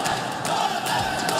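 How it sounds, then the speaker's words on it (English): Dense arena crowd at an esports grand final in France, roaring and chanting steadily as one loud continuous wall of voices with no break. "The ferocious crowd here in France giving them their energy. Chant after chant, screaming the name Godlike"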